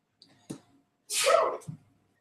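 A single person sneezes close by, a brief sharp burst after a small intake of breath, followed by a short voice.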